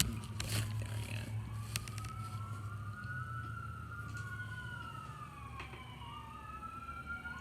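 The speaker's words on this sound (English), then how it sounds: "Sirens." Several sirens wail together at a distance, their pitches sweeping slowly up and down and overlapping, with a steady low background hum running underneath.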